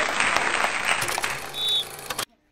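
Audience claps for a game-show prize winner, the applause fading unevenly, then a brief engine-like hum and a faint whine before the sound cuts to near silence.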